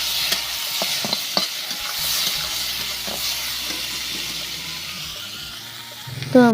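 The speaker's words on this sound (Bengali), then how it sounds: "তো আমার মূলো ভাজাটাও হয়ে গেল" Radish frying in a pan as it is stirred, a steady sizzle with scraping stir strokes throughout, ending in a louder clatter.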